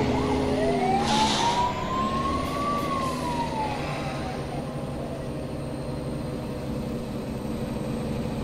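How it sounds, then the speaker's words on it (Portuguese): A fire truck siren in a driving video game wails in a slow rising and falling sweep, loud and steady over a constant rumble of engine and road noise. "Os bombeiros estão correndo ali."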